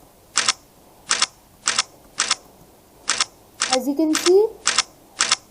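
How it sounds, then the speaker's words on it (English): A homemade prison break video game fires an M4 LMG, producing a string of sharp, evenly spaced shot sounds, about nine in all, with a brief spoken voice over part of them. "the bullet is shooting, making the right sound and going in the correct direction."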